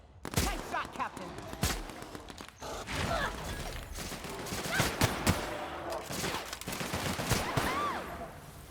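Bursts of sci-fi gunfire in The Outer Worlds, rapid shots and mechanical clacks mixed with creaks and effects, with a character's voice speaking over the battle.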